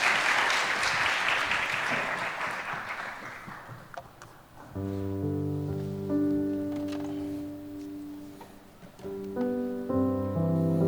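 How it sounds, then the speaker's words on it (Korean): Applause from a church youth service congregation welcoming a young speaker, a dense burst of clapping that fades after about four seconds as sustained piano and keyboard music takes over. "우리 나올 때 격려의 박수 한번 보내주시면 감사하겠습니다"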